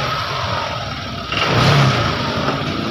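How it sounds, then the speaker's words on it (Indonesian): A 2022 Honda Vario 125 scooter being checked for sudden stalling starts up partway through with a short burst of revving, then keeps running at a steady close idle. "kita tes starter langsung. Oke, motornya langsung hidup ya."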